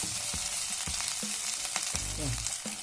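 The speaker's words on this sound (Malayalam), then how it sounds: "ഇനി ഇതിലേക്ക് ചെറുതായി ചോപ്പ് ചെയ്ത് വെച്ചിരിക്കുന്ന സവാള ഇടാം." Finely chopped onion frying in hot oil for a rajma masala, a steady loud sizzle with a few soft stirring knocks of a spoon against the pan, close by with no talking.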